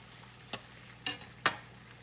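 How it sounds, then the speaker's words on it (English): Ground beef cooking in a pan for a quick budget supper, with three short scraping stirs over a faint, low background and no talking. "Now that my ground beef has started cooking good"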